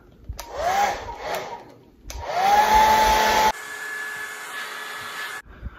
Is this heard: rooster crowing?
no